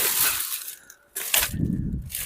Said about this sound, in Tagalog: basag na takip ng rice cooker kaya nga tumutunog